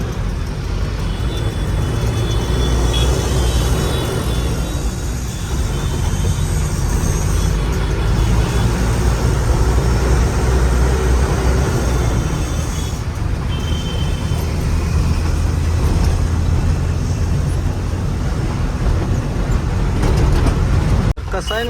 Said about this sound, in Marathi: ट्रॅफिक लागले भरपूर.